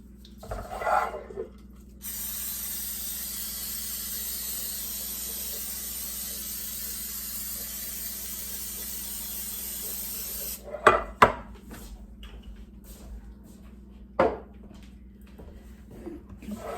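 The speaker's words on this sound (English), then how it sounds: "spray a muffin tin" A long, continuous hiss of aerosol cooking spray onto a muffin tin lasts about eight seconds, followed by a few sharp metallic clinks and taps of the tin.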